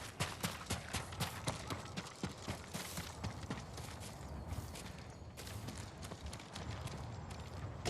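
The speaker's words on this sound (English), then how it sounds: "You're a good horse, Nobu." Horse hooves clip-clop in a steady walking rhythm, close and clear, with faint creaks of tack in between, in the video game Ghost of Tsushima.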